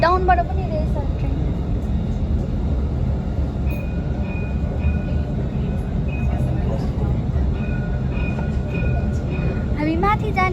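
A monorail train at Dubai Marina rumbles past in a continuous low roar at night, with people talking over it throughout.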